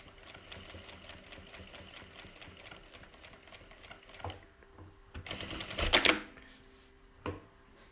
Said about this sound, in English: We'll cut the thread at the end of this seam.